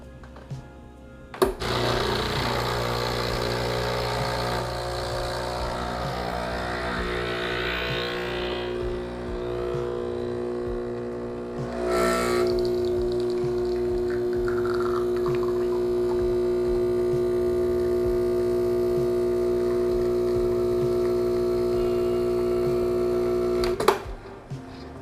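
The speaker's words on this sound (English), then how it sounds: "So that's how you manually extract an espresso." An espresso machine pulls a 20-gram ristretto shot, with a loud, steady pump hum and drone running continuously after a click at the start and stopping abruptly with another click near the end.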